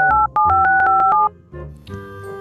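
A telephone number dialed as a quick run of about nine short touch-tone beeps in uneven rhythm, then a brief pause and a lower, fuller phone tone or recorded signal, loud and close.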